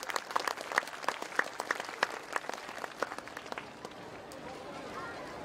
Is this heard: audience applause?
yes